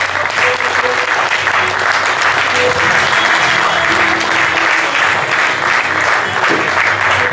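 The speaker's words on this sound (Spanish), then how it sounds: "Fuerte aplauso" Loud, dense applause from a crowd at a team presentation event, continuous and even throughout with no break.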